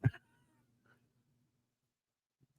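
A house cat gives a short, loud meow close by, followed by a faint, brief second call after a stretch of near silence.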